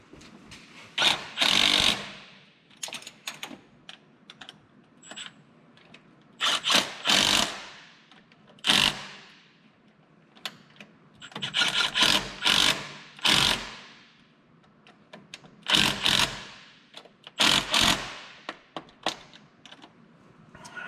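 An impact wrench rattles off rusty 5/8 bolts in repeated short bursts, each lasting about a second, loud and close with pauses between them.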